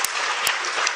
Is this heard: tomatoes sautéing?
no